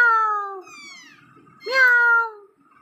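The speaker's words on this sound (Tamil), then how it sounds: "எப்படி கத்துவோம் ஜாக்கி? Meow meow" A cat meows twice, close and clear, with drawn-out, rising-then-falling calls separated by a short pause and no one talking.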